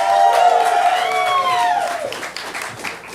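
A live roast audience applauds and cheers as comedian Kurt Metzger is introduced. The dense clapping and crowd noise carries steadily, with a voice ringing out loudly over the top before the noise tapers off.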